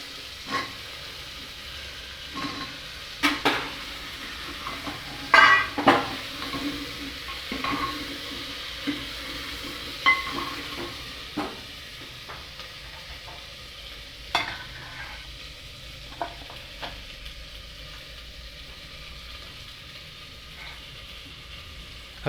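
Cauliflower and potatoes frying in a pan with onion, garlic and ginger, a soft continuous sizzle broken by scattered scrapes and clinks of a spoon stirring against the pan, no voices.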